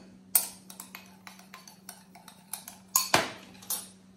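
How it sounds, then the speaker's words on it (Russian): A spoon stirs ground cumin, smoked paprika and pepper in a bowl with light, repeated clinks and scrapes, a few sharper taps standing out, close and fairly quiet. "Все это перемешиваем."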